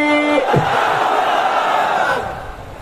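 A crowd at a Bangladeshi waz rally roars the takbir response in unison, a loud sustained chant of many voices that swells and then fades away.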